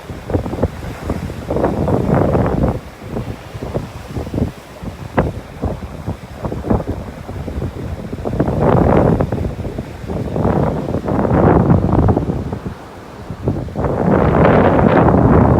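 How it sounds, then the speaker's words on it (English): Strong wind buffets the microphone on a beach in North Naples, Florida, with palm trees blowing and surf rolling in, a loud, continuous roar that swells in gusts. "the palm tree blowing in the wind"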